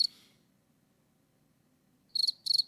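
Crickets chirp as a sound effect: one brief burst at the start, a quiet pause, then two quick loud chirping bursts close together.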